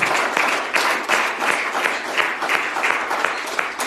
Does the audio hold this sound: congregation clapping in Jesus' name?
yes